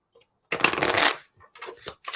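A deck of tarot cards is shuffled by hand, a dense riffling burst for about three-quarters of a second, followed by a few softer, shorter shuffles and card taps close to the microphone.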